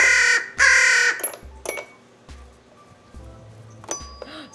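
A bird at a nature center strikes the keys of an enrichment toy, giving a few bright ringing, bell-like tones over about five seconds, with some louder bursts early on and softer chiming toward the end.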